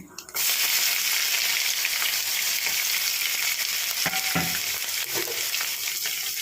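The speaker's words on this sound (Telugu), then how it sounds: "ఇప్పుడు కొంచెం ఇంగువ వేస్తున్నాను ఇంగు వేసుకుంటే పచ్చగా టేస్ట్ వస్తుంది అలాగే వెల్లుల్లి కూడా వేస్తున్నాను" Garlic and asafoetida hit hot oil for a raw mango pickle tempering, bursting into a loud, continuous sizzle after a brief quiet moment, with occasional stirring knocks underneath and no speech.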